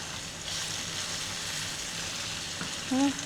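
Minced garlic frying in oil in a pan gives a soft, steady sizzle throughout, fairly quiet, with a brief clink or scrape near the end.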